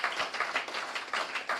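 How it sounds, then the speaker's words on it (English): Applause for the staff at a law day debate winner announcement, a short burst of scattered clapping from an audience, moderately loud and steady throughout. "let's give our staff a big round of applause"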